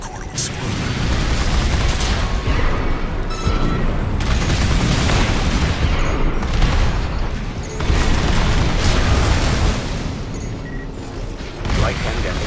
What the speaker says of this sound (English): The resulting overload will cause the reactor core to explode.